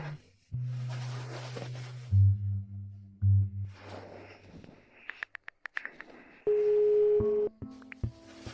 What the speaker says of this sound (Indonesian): Aku telepon Mama dan lihat.